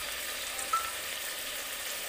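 Chicken frying in a pan for biryani gives a steady, even sizzle that holds at the same close level throughout, with no talking.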